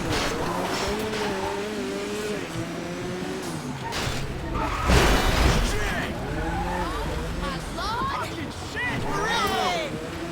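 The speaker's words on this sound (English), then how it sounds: "we're going to go ahead and drive it into that empty slot we had on our V2" A personal vehicle in a video game drives into an empty garage slot, with steady engine drone, rising and falling revs and tire squeal running throughout, mixed under continuous talking.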